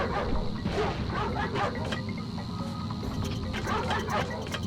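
Robot dogs in the Ratchet & Clank video game bark repeatedly in short rhythmic bursts over steady game noise, moderately loud and mid-distance.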